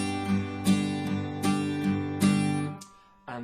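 Acoustic guitar strummed in a country style, a close, steady pattern of bass notes and chord strums repeating evenly for a few seconds before a final fresh strum.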